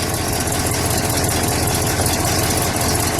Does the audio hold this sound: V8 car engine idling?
yes